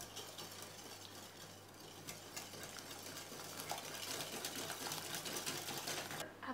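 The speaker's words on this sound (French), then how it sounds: "On va pouvoir mettre les œufs avec le sucre et on va blanchir." Electric mixer whisking eggs with sugar in a bowl, a steady fast buzzing whir running throughout, fairly quiet and close, with no talk.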